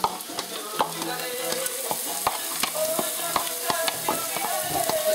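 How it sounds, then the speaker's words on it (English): Celery and onion sautéing in a big pot for shrimp soup, a steady sizzle broken by repeated scraping and clacking of a spoon stirring, close and fairly loud with no talking. "We're gonna stir it up"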